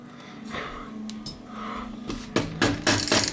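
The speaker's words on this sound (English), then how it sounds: "Tap it on with the hammer." A hammer taps a bicycle chainring and crank arm into place, a few quiet knocks first, then a cluster of sharper, louder metallic strikes near the end.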